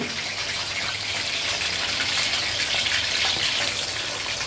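Chopped cauliflower hitting hot ghee in a pan, making a loud, close, steady frying hiss with a gushing sizzle that holds evenly from start to finish, without any voices.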